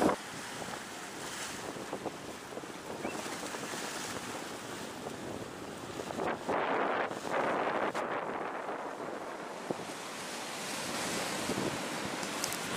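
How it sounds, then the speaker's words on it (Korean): Steady roar of high ocean swells and wind off the Jeju Island coast, waves washing continuously with heavier gusts buffeting the microphone; no voices. "지금 그 파도가 너울이 너무 높아가지고"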